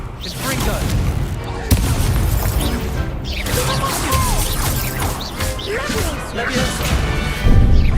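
A Confringo blasting spell explodes in Hogwarts Legacy amid a busy magic duel, loud crashing bursts layered over shouting voices, whooshes and repeated impacts.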